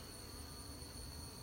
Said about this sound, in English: There's a lot of bees in this hive.